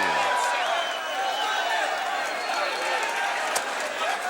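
Boxing arena crowd roaring as people storm into the ring after Marvin Hagler's first-round knockout: a loud, continuous wash of cheering and shouting with scattered claps, dense and unbroken throughout.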